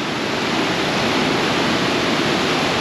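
A waterfall at the 4000 Islands in Laos roars in a dense, steady, broadband rush, loud and close, with no voices over it.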